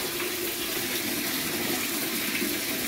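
Water for bathing a child pours and splashes in a constant, dense rush, loud and close, with no other sounds standing out.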